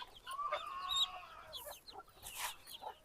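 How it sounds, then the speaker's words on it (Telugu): Backyard chickens, including a rooster, cluck and chatter close by while being fed rice after rain, with several overlapping calls and a short squawk. "ఇక మా కోళ్ళు అన్నీ ఇవి."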